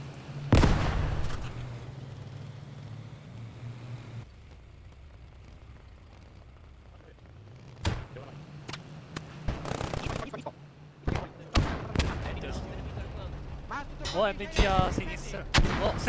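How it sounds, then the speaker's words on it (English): Bursts of machine gun fire in the Squad 44 World War II shooter, a sharp opening burst followed by scattered loud shots and rattling volleys later on, over a low engine drone, with someone talking. "Machine gun fire, gunning cross, gunning anyone down that's trying to cross over here."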